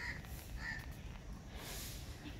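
Crows caw faintly a couple of times in a garden on a winter morning while small birds carry off scattered rice, with soft outdoor background noise and no talk.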